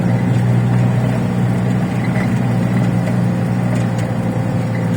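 A truck rolls along a road near a junction, giving a continuous low engine rumble and road drone that stays loud and steady with no break.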